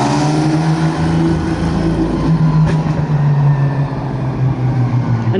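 A race car engine revs loudly and close at a Nurburgring demo day, its steady drone shifting in pitch as the throttle rises and eases over a few seconds.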